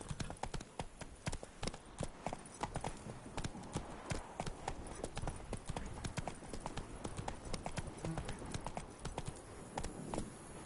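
Horse Roach galloping in the video game The Witcher 3: Blood and Wine, a fast continuous clip-clop of hooves with rhythmic rapid strikes, steady and moderately close, with faint game ambience behind.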